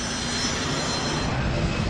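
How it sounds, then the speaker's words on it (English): An Air France Airbus A330 takes off on an 11-hour flight to Paris, a loud and steady jet-engine roar that fills the whole stretch without letting up. "The Air France flight, an Airbus 330, takes off for the 11-hour journey to Paris."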